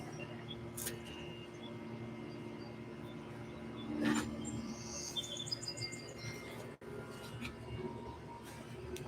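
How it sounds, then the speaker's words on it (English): Faint, scattered bird chirps over a steady low hum of outdoor background noise, with a brief louder rustle partway through. "Birds are still chirping."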